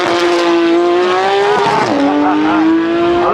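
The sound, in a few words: supercar launching hard with tire squeal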